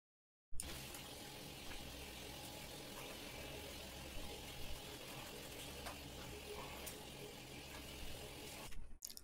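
Water from a shower runs steadily while a dog is washed during grooming, a continuous hiss with a few faint knocks and no voices, starting abruptly and cutting off at the end.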